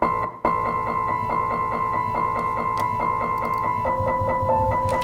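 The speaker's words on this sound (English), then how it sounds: "I recorded my 100-year-old piano really badly" Old piano about a century old, recorded roughly and noisily, playing a steady repeated chordal pattern with a constant hiss and gritty noise bed, loud and close, alone with no talk after a brief dropout at the start.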